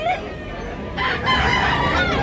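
A rooster crows loudly and close by at a busy chicken market in Tabunok, Cebu, one drawn-out call over background clucking and crowd noise.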